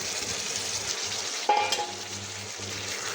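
Fried fish pieces drop into spiced masala with a sudden burst of sizzling, then a steady hiss of frying under soft stirring, close by.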